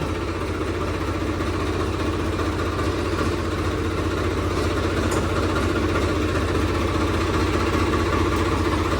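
A Swaraj tractor engine idling nearby, a steady loud low diesel rumble with an even throb that holds unchanged throughout, no voices.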